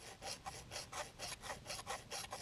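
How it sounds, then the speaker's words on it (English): A hand file is pushed over the rakers of a chainsaw chain, giving about eight evenly spaced rasping strokes in a steady back-and-forth rhythm, close by and fairly quiet. "Just push your file over."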